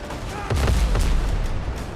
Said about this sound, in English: there's so many cannons, I just can't even figure out where all to shoot.